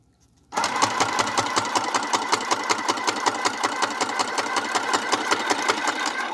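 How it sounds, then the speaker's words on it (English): Sewing machine stitching through paper tags, starting abruptly after a moment of quiet and then running at a steady rapid mechanical chatter, close and continuous, with no voices. "let's sew in our last one"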